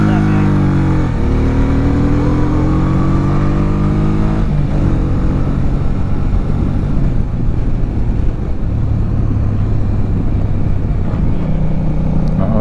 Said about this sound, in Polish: Lecę odstawić motor.